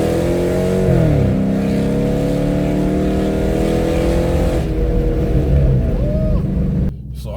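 A car engine with its catalytic converters removed revs loudly and steadily for about seven seconds, a rising pitch sweep near the start and a raw, droning tone throughout, cutting off abruptly near the end.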